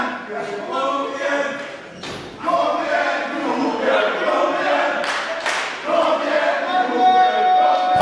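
Crowd at a Norwegian pro wrestling show cheering and chanting for the wrestler Knoke, a loud sustained roar with swelling shouts and a few thuds, mixed with voices.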